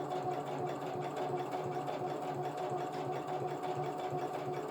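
A sewing machine stitches through a camo pouch in a steady, rapid hum of needle strokes that runs unbroken, close and alone with no talk.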